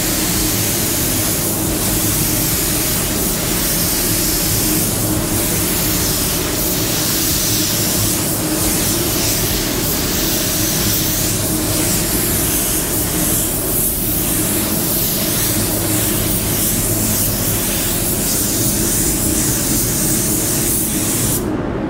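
An Eastwood CC500 spray gun lays paint onto a new body panel in one continuous, loud, close hiss that holds steady for the whole stretch without pause.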